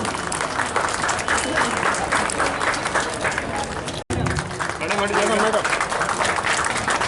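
Sustained audience applause at an Independence Day honours ceremony in Darbhanga, loud and dense for about four seconds, a brief cut, then clapping resumes with a voice speaking over it.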